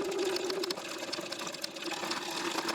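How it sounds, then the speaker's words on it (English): A sewing machine runs steadily with a continuous whirring hum as it stitches in the ditch along a quilt seam, close and fairly loud, with no voices. "I just stitch in the ditch to my next stitch across the"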